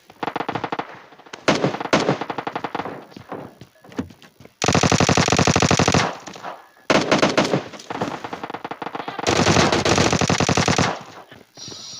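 Rapid bursts of automatic gunfire in PUBG Mobile, in several long volleys separated by short pauses, loud and close, with a game-like quality.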